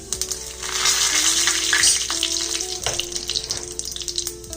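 Cumin seeds and bay leaf sizzle in hot oil for a Punjabi tiffin meal, giving a steady, close frying hiss that swells in the middle, with a few clinks and scrapes and no talking.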